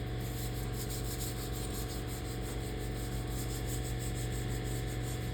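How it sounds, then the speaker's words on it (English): Rusty metal arcade cabinet parts for a Popeye arcade machine being scuffed by sanding before priming, a steady, continuous rubbing and abrasive hiss that stays even and close throughout. "I just went over it quickly just to scuff it up so that the paint will stick to it"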